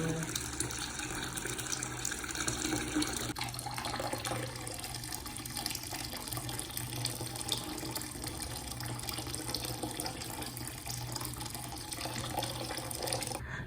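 Warm boiled water mixed with cold water is poured for bathing a cat at home, a steady close splashing and running-water wash that continues for the whole stretch, fairly quiet.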